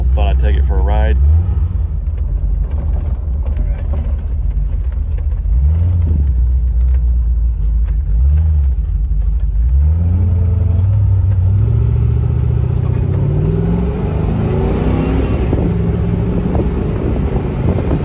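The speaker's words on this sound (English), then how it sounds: "Car is finally idling and running on its own" A C4 Corvette engine runs steadily while driving, its low drone rising and falling with gear changes, accompanied by wind buffeting the microphone.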